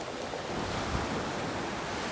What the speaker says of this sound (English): Good ocean waves.